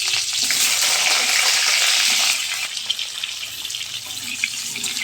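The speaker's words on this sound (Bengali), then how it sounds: "দেখো তেল হয়ে গেছে, পটলটা ভেজে নেব।" Pointed gourd (potol) pieces frying in hot oil, a loud dense hiss that fills the clip, easing slightly after a couple of seconds and continuing steadily.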